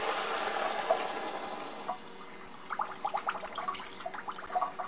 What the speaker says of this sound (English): Same amount of water goes there.